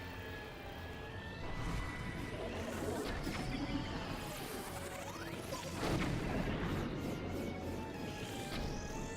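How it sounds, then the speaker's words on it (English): Bombs blasting in Zelda: Breath of the Wild during a Divine Beast Vah Medoh fight, heavy crashes and booms hitting over a dense game soundtrack, with a stronger blast near the end. "I think the bombs are doing more."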